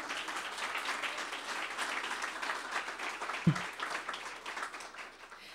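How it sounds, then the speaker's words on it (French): Steady applause from an audience at a public talk on environmental policy in Europe, a continuous wash of many clapping hands at moderate distance, with one close thump partway through. "On peut l'applaudir."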